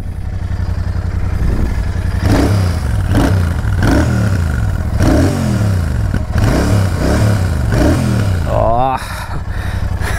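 A Royal Enfield Super Meteor 650 motorcycle revs its exhaust again and again, about seven rising and falling bursts over a low idle thump, loud and close, with a quick final blip.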